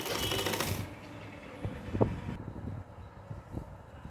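Sewing machine stitching the neckline of a sleeveless kurta, a faint, soft run of needle clatter that rises after an opening stretch of broadband noise, with a few brief louder taps in the middle.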